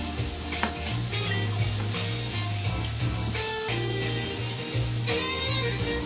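Mozzarella frying in a pan for a tomato and onion salad, a loud continuous sizzle with scraping and stirring clatter throughout, no one talking.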